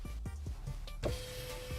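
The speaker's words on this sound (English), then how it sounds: "you can actually open this sunroof" A 2019 Range Rover Sport sunroof motor whirring steadily as the panel opens by gesture control, a soft continuous hum inside the cabin after a few faint clicks and knocks.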